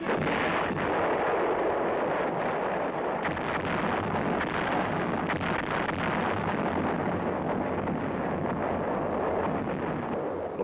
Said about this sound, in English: each field artillery weapon must be in position and ready to fire at the appointed time